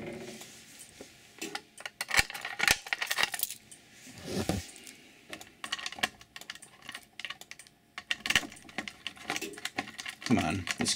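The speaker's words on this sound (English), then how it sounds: "Come on, this keys, not key switch, but key lock rather, likes to give me trouble sometimes." Keys jangle and scrape in the key lock of a fire alarm panel during a school alarm system test, with repeated sharp metallic clicks and rattles close up. Brief bursts of quiet speech come between them.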